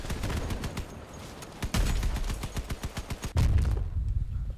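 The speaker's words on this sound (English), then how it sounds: "He's using mace shotguns." Rapid bursts of mace shotgun fire from vehicles battling in the game Crossout, loud and close, with heavy booming blasts repeating in quick succession and a couple of bigger impacts standing out near the middle and end.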